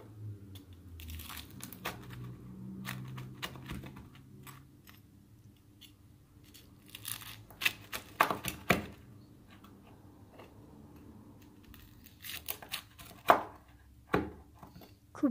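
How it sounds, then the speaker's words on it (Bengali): A knife cuts a cooked cheese quesadilla into pieces, quiet scattered crunching cuts and clicks against a board, growing sharper and more frequent toward the end, with no talking. "এখন এটাকে পিস করে কেটে নেব।"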